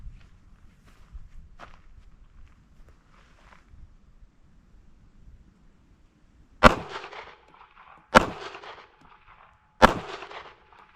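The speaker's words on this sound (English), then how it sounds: "shooting 3 rounds just right about a foot away from it, just to see where I am with the gun" A Smith & Wesson 9mm Shield Plus pistol fires three sharp, loud shots at steady intervals of about a second and a half, each with a short ringing tail, after quiet background shuffling.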